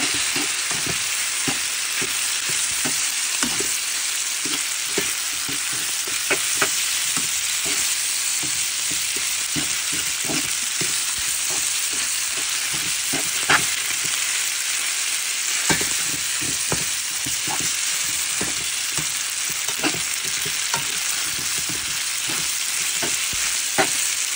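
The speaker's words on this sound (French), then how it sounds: "On va mélanger tout ça." Spaghetti fries in a hot pan with a loud, continuous sizzle, broken by frequent clicks and scrapes as it is stirred for a long stretch without any speech.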